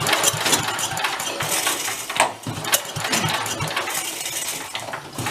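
A vintage Mite-E-Lite generator engine sputters through a failing start attempt, with irregular bursts of mechanical clatter and metallic rattling close by before the motor dies out.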